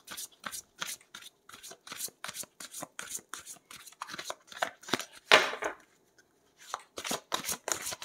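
Tarot cards being shuffled for a five-card reading: crisp, close riffling and slapping of the deck in quick repeated bursts, with a short pause near the middle before the shuffling resumes.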